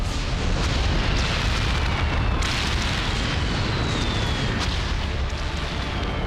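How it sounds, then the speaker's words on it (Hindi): A continuous deep, rumbling roar with crackling bursts, like distant explosions from airstrikes on military sites in Iran blending into sustained thunderous noise, loud throughout. "इजराइल के हमले से ईरान में कई जगह ऐसे ही धमाके हुए"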